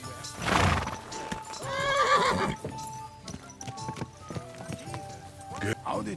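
A horse neighs loudly with a shrill, wavering whinny, then hooves clip-clop amid game sounds, with voices talking over the action.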